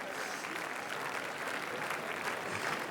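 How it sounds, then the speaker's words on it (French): Sustained standing ovation on the Cannes red carpet, a dense, steady wash of many hands clapping from a large crowd, even in loudness throughout with no gaps. "The standing ovation is still going on."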